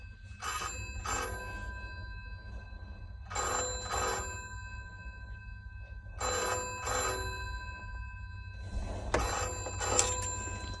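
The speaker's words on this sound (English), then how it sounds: "Still doing the ring signal for some reason." An old telephone's bell rings at Avoncroft Museum in repeated bursts, each about a second long with a pause between, loud and close over a steady low hum, with no talking.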